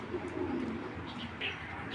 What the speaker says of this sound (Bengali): মাশাআল্লাহ খুব ভালো একটা কবুতর, ব্যালেন্সও খুব অমায়িক।